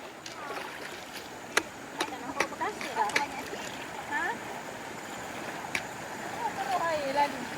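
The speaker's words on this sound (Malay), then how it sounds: "Okey, kita dah sampai sungai." A jungle river on a Bukit Kutu hiking trail near Kuala Kubu Bharu, Selangor, rushes with a soft, continuous hiss, broken by occasional splashes and knocks as hikers nearby talk and move around at the water's edge.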